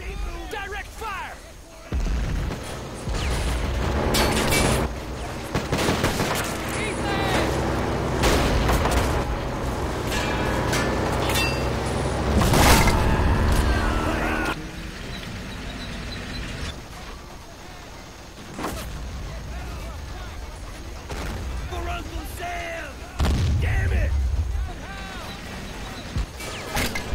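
Men of War: Assault Squad 2 battle with loud, dense gunfire, repeated artillery booms and crashes throughout, with voices heard among the explosions.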